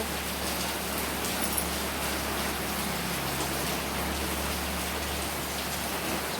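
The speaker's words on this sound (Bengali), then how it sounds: "বৃষ্টির আওয়াজ নিশ্চয়ই তোমরা শুনতে পাচ্ছ।" Rain falls steadily outside a home in early morning, a dense, even hiss of drops on surfaces with a low constant rumble beneath, unbroken and fairly close.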